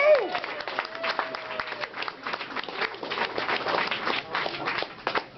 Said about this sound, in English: Give yourselves a round of applause tonight